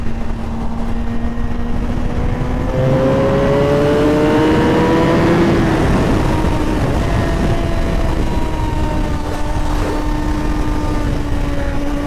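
A 2025 Suzuki GSX-R1000R motorcycle engine pulls hard while riding, its loud rising whine climbing through the gears in smooth sweeps, with heavy wind rush throughout.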